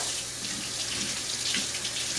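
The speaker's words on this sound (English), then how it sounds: "Now I'm just going to rinse my one hand here quickly." Water from a kitchen tap runs steadily as a hand is rinsed beneath it, a soft continuous splashing hiss at moderate level with no voices.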